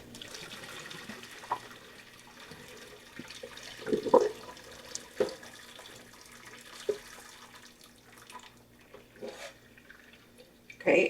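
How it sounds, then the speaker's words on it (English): Hot water from a pot of cooked peppers is dumped out into a kitchen sink, giving intermittent splashes and drips with a few sharper spills over a low running-water background, with no talking. "all I'm going to do is dump this hot water out."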